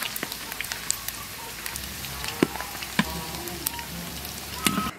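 Pork belly renders its fat in a hot wok, a dense, rain-like crackle of small sizzling pops with a few sharper spits standing out, steady and close.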